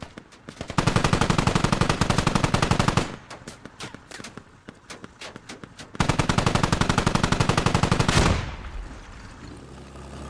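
Rapid bursts of automatic small-arms fire in a video game, two long sustained volleys separated by a stretch of scattered single shots, loud and close with no talking.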